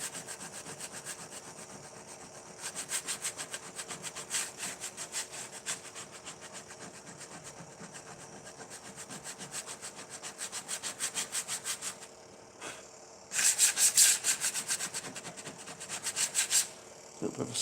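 A scraper is dragged across a 3D printer bed to clean it, making a run of short, rhythmic, fairly quiet rasping strokes with brief pauses and a louder burst near the end.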